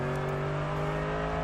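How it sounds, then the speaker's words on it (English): Race car engine at the Nürburgring 24 Hours, a steady droning hum with strong tonal harmonics held at an even pitch as the driver eases off the throttle while passing slower cars, close and continuous. "Danny again just easing out the gas and just picking his moment to fire it past the slower cars"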